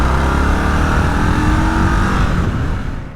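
Indian 101 Scout motorcycle engine on a road test ride, a loud continuous drone with steady throttle and rushing wind, holding level before easing off at the end.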